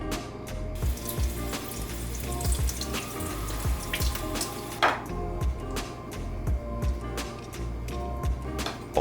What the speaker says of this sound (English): And we rinse them with cold water.